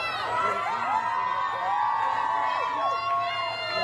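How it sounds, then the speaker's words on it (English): A crowd cheers and whoops from across the street at an Election Day event in Pennsylvania, sustained shouts and yells carrying steadily at moderate distance. "There, he greeted a crowd who cheered from across the street."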